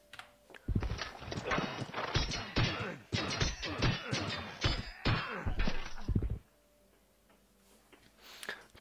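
Hooves of a horse unit in the Civilization III strategy game clip-clop in a brisk, close rhythmic run of beats lasting several seconds before stopping abruptly.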